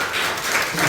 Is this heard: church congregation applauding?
yes